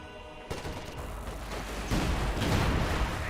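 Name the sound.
artillery barrage in video game Company of Heroes 2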